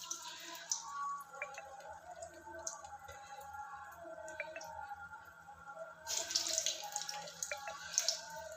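A hand dipped into a bowl of water while shaping vada dough, giving soft drips and small splashes in a kitchen, faint and intermittent with a brief louder splash near the end.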